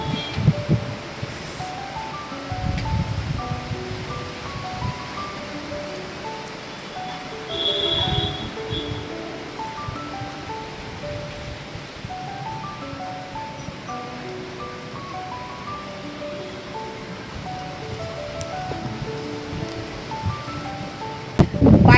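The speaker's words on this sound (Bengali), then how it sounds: "হাওয়া নয়, এটা ঝড় অ্যাকচুয়ালি" A storm wind blows outside a home kitchen, a long, surging rush of noise that swells and fades in gusts, with occasional rustling.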